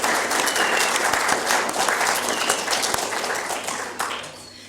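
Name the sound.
audience applause at lecture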